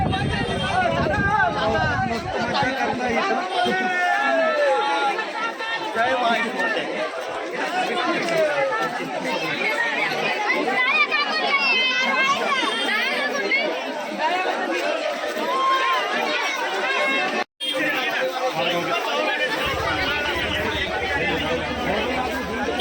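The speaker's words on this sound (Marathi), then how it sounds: "तर मित्रांनो गर्दी वाढलेली आहे" A dense crowd chatters and bustles at a busy Mahadev temple fair on the fourth Monday, a continuous close babble of many overlapping voices with a brief dropout near the end.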